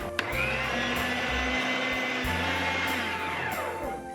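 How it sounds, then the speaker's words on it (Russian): An electric meat grinder mincing garlic cloves in a home kitchen gives a loud, steady motor whine throughout. Its pitch dips briefly as the load shifts, with no talking. "в первую очередь прокручиваю чеснок"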